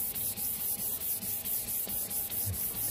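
Rhythmic abrasive sanding strokes with 400-grit sandpaper rub back and forth on a plastic car headlight lens, close and steady, about four strokes per second.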